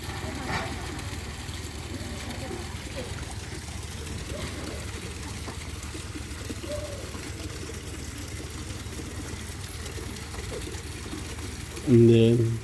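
Steady low rushing of water in a small canal lock in Falkirk, Scotland, running continuously with a mechanical hum beneath, people talking faintly over it, and a louder thump near the end.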